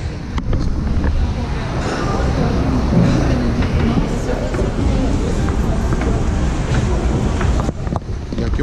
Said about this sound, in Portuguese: vamos pegar o metrô sentido Jaba